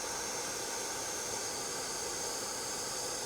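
Steady vacuum cleaner hiss and whine while cleaning the interior of a Ford Escape, a constant loud broadband drone running unbroken throughout with no talking.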